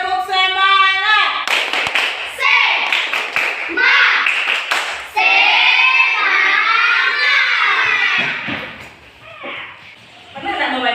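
Schoolchildren in an Indonesian classroom perform a rhythmic spirit clap: a run of sharp, close hand claps in the first few seconds, set among loud chanted and shouted voices that carry on throughout.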